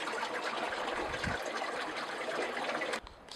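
Rushing water of an underground river flowing beneath rocks in Little Lakes Valley, a loud, steady broadband roar that continues unbroken, then drops off sharply near the end.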